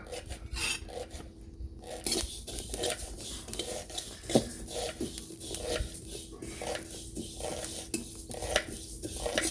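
Cinnamon, cumin and other whole spices dry roasting in a pan over a wood-fired chulha for a mutton dish: dry rasping, scraping strokes of a spoon stirring against the metal, close and steady with light clinks, no talk.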